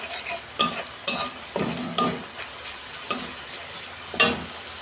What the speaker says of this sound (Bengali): 2 মিনিট আমি মশলাটাকে ভালো করে কষাবো।